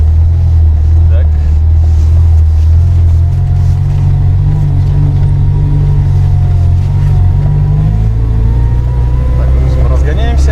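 A UAZ off-road racing vehicle's engine drones loud and steady from inside the cab as it accelerates slowly, pitch gradually rising, with people talking over it.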